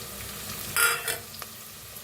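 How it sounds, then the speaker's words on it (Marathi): Ground garlic, green chili and peanuts are roasted in a pan, with a faint sizzle broken by a couple of short scraping stirs, close and quiet, with no talking. "लसूण मिरची शेंगदाणा बारीक करून घेतलं होतं बघा ते मी भाजून घेऊया"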